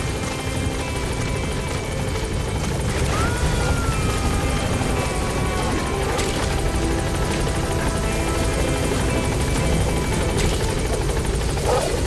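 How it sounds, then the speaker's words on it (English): A support helicopter arrives in Metal Gear Solid V: The Phantom Pain, its rotor thudding loudly and steadily throughout, close and continuous, with faint radio-like tones mixed in. "Support helicopter has arrived."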